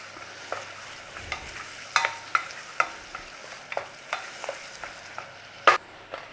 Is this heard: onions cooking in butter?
yes